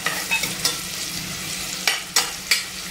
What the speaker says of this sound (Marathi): कांदा छान असं आपण परतून घेऊ।